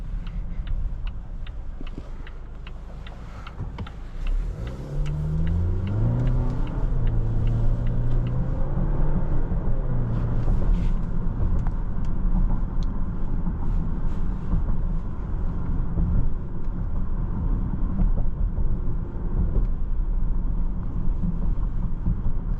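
A 2026 Volvo XC60 B5 Ultra Black Edition drives on the road, a steady low engine and tire rumble with a brief rising engine note early on, a faint ticking indicator at the start, no talk.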